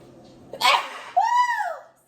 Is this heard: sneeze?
yes